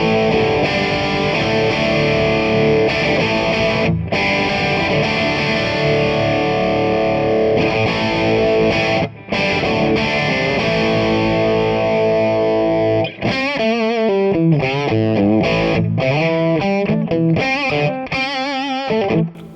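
Distorted electric guitar played through a small Maz 18 tube amp with plate-style reverb, sustained overdriven chords ringing out, then a run of bending, wavering single-note lead lines.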